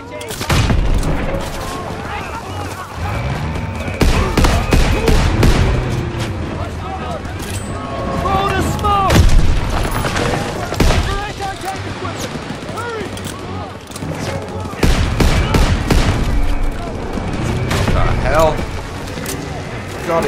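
Shotgun blasts and gunfire in the video game Call of Duty WWII, dense repeated loud shots and booms mixed with someone talking throughout.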